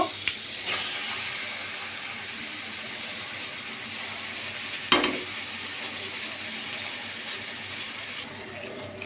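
Taro greens dropped into a pan of spiced masala with large cut prawns, frying with a steady sizzle and stirring scrapes, plus one sharp clatter midway.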